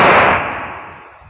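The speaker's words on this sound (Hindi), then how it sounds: "अरे आतिशबाजी" A single sharp, loud firecracker bang goes off close by during a wedding procession celebration, its crack decaying quickly into a fading rumble.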